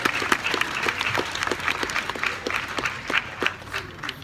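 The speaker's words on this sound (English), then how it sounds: "Moms and dads, you guys deserve a round of applause for everything that you guys do." Sustained audience applause at the Elite World Series opening ceremonies, dense overlapping clapping honoring parents, with a few voices mixed in.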